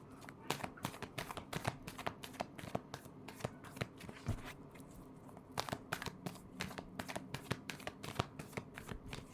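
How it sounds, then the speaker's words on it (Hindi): Tarot cards are shuffled by hand in a steady run of quick riffling bursts, crisp, papery and close, repeating over several seconds with no talk. "Last shuffle."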